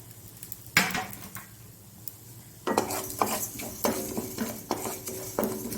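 Cumin and coriander dry-roasting in an iron pan for Mangalore-style fish rasa: a sharp clank, then repeated scraping strokes of a spoon stirring the seeds with a faint sizzle, no voices.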